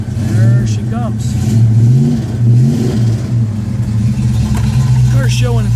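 A 1971 Plymouth GTX with its V-code engine running just after starting, a loud burbling idle with rising and falling revs, inspected at an Auburn auction, with voices talking over it.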